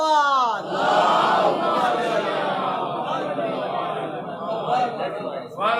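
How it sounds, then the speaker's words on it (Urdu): A crowd at a religious gathering loudly chants salawat in unison, a strong burst of many voices that swells and holds, then fades and rises again toward the end. "آواز بلند نعرے صلوات."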